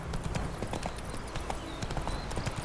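Horse hooves clip-clopping in the video game The Witcher 3, a brisk, even run of hoofbeats at a steady trotting rhythm, moderately close and fairly quiet.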